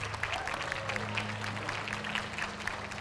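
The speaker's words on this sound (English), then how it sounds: "Big round of applause for her" Spectators at a school livestock show clap for a young exhibitor after cattle judging, a moderate, steady round of applause under a low, continuous hum from the arena.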